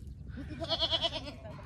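A goat bleats in several wavering, harmonic cries close by in a calm outdoor spot, rising out of low background rumble and fading at the end.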